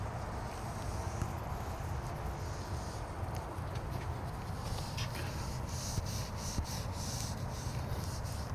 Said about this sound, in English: Give it a wipe down or buff off, whatever.